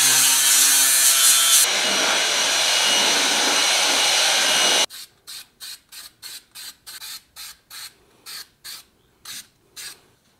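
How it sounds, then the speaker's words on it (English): An angle grinder grinds down a fresh weld on a Porsche engine cradle being fitted for a Subaru EZ30R flat-six. The loud steady grinding lasts several seconds, then gives way to a run of short, evenly spaced scraping strokes. "I'm going to give it a quick grind and some weld through primer."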